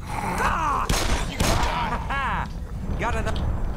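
Gunshots in Black Mesa come as sharp bursts within a busy, loud game mix, mingled with creature growls and other effects; a few distinct shot-like transients stand out over about four seconds.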